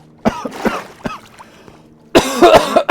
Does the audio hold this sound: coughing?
yes